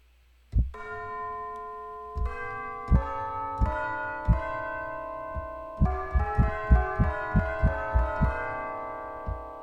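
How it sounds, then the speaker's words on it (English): Tubular bells from a Spitfire BBC Orchestra sample library struck one at a time, slow at first then quicker, each bright metallic tone ringing on and overlapping the next, clear and alone. "Moving on, we have the tubular bells."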